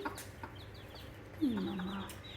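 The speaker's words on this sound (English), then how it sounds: "So we've got 8 babies in there with a hen" A hen with eight chicks in a nursery coop, soft low clucks and a few short chick peeps over a quiet background, fairly faint and close.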